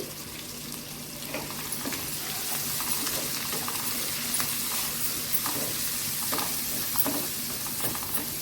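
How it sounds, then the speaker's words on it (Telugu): Sliced onions fry with turmeric in a pan, making a continuous soft sizzle that grows a little fuller after the first second, with faint stirring clicks scattered throughout and no voices. "పసుపు సీజనింగ్ కోసం జస్ట్ ఉల్లిపాయలు వేగటానికి"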